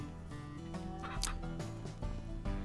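Chickens and a rooster in the farming game Ranch Simulator, giving clucks and a gobbling call over a steady droning music bed at moderate loudness, with no speech.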